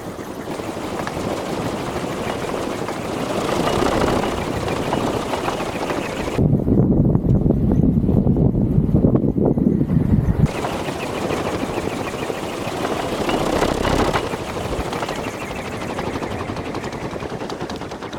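Wind gusts against a homemade wind turbine locked in place, a steady rushing roar that swells into a stronger, louder gust partway through before easing back.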